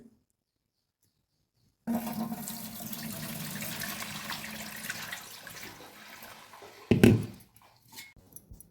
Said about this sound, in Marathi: परत एकदा पाणी घालून पाणी काढून घ्यायचं.